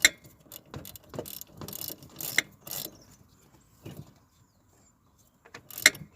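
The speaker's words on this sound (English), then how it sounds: "Just putting a pinch bolt on now, so that just clamps the actual steering wheel, the UJ, to the rack." A ratchet tightens the steering column pinch bolt clamping the universal joint to the rack on a Nissan Micra rally car, with close bursts of quick clicking separated by pauses, no talking over it.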